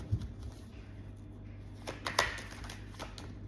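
Tarot cards being shuffled and drawn during a reading, a few soft papery flicks and taps, close but quiet, spaced out over a few seconds.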